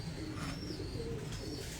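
Pigeons on a rooftop coo in low, soft, repeated calls close by, with a steady background hum and no talk.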